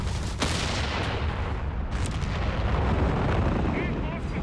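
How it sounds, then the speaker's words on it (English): Assault grenades detonating in Company of Heroes 3, heavy booming blasts at the start and midway over a dense rumbling battle bed with scattered gunfire, while a commentator talks over the action. "Assault grenades out."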